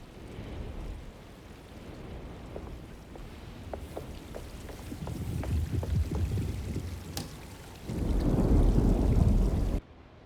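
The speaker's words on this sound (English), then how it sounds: "Looks like a storm's coming." Rain and thunder from a storm in the 2024 video game Alone in the Dark, steady rainfall with dripping taps and rumbles, swelling into a heavy downpour near the end before cutting off.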